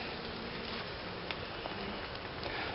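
Honeybees from a swarm-started hive drone in a steady, dense buzz throughout a hive inspection, close and continuous with no pauses.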